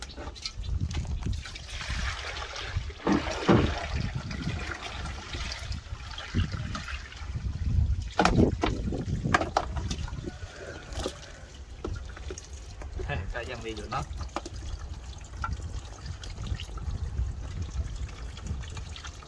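Water is poured and splashed into a large pot holding a giant water lily, a continuous gushing and trickling outdoors with irregular surges, close and moderately loud throughout.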